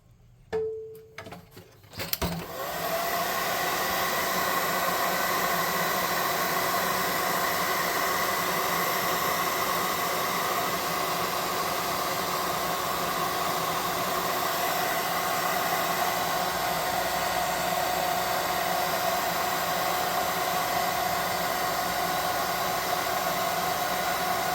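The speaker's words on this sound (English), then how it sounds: "Now we're gonna air dry him a little bit." A hair dryer blows on a freshly washed, painted miniature boar figure for a tabletop game, starting with a click and then roaring in a steady, loud, close whoosh for over twenty seconds.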